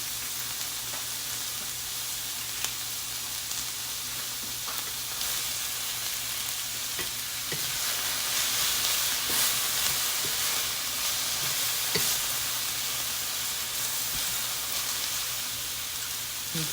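Soft cabbage and apple frying in a pan, a steady gentle sizzle with faint crackles and occasional stirring clicks, close by and even in level, with no one talking.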